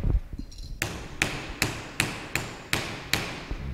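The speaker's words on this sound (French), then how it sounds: "Je suis bien à plat, donc je continue bien entendu avec le marteau." A hammer strikes a metal bottle cap to flatten it, seven sharp, ringing blows at an even, steady pace after some initial handling noise, close and loud.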